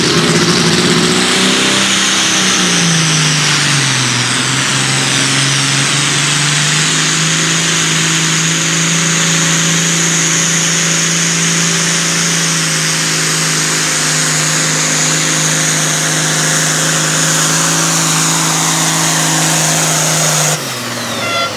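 A competition pulling tractor at the Trecasali tractor pull revs its engine hard, pitch sliding down then holding a loud, sustained high-rev roar with turbine whine for about twenty seconds before cutting off abruptly, no talk.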